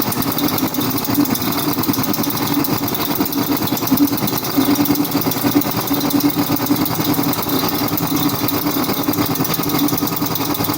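An old Seagull outboard boat engine runs steadily and loudly throughout, a constant rattling drone with no voices over it.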